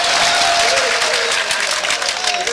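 Audience applause at a live mushaira poetry show in Patiyali, a dense, steady wash of clapping filling the whole stretch at close, loud level with faint crowd murmur mixed in.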